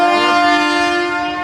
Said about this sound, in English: Here I am at New Delhi train station